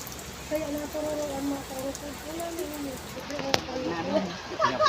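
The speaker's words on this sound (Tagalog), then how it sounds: "ang lakas ng ulan" Heavy rain pours steadily outdoors near a roadside store, a constant broadband hiss throughout, while someone talks over it.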